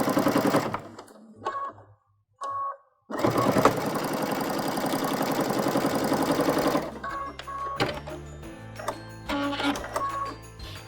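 A sewing machine set up as a free arm stitches around a patchwork stocking in short bursts, then a longer steady run of rapid needle clatter, followed by quieter stop-start stitching.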